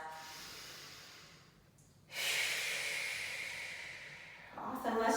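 Deep breathing during a Pilates mat exercise: a long breathy inhale followed by a strong hissing exhale, close and fairly loud, with no speech over it.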